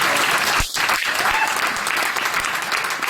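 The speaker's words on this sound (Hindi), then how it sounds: "एक बार जोरदार तालियां करना।" Brief burst of loud audience applause at a trade centre gathering in Ludhiana, Punjab, continuous clapping from a crowd lasting a few seconds.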